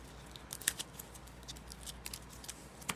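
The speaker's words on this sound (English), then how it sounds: "Shuffle my deck." Game cards from a Power Rangers: Heroes of the Grid deck being shuffled, a quiet run of crisp papery riffles and snaps close by with no voices.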